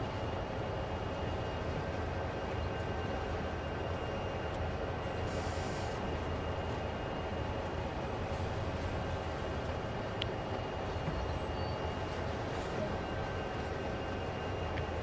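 A CSX heavy-haul freight train rolls along in Train Simulator World, giving a continuous low rumble and steady wheel noise for the whole stretch, with a faint high hum and a few small clicks on top.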